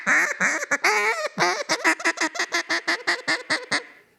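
A duck call worked through a feed call: a few drawn-out raspy quacks give way to a fast, steady chatter of short, clipped notes, loud and close with no talking.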